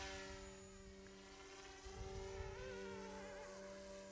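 A GOOSKY S2 RC helicopter hovers nearby with a steady, fairly quiet rotor whine of stable harmonic tones, plus a slight wavering rise in pitch partway through. No one talks.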